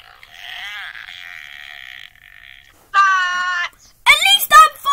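A child imitates farts with the mouth, making a few loud, buzzing raspberry sounds, the first long and steady, then shorter bursts, with excited voices and silent gaps between them.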